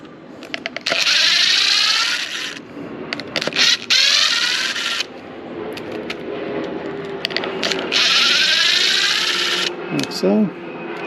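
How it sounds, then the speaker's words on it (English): An impact driver backs four T20 screws out of the pad of a DeWalt 20V cordless orbital sander in several loud, whining bursts of a few seconds each, separated by short pauses and a clink of a screw near the end. "You want to take these 4 screws out."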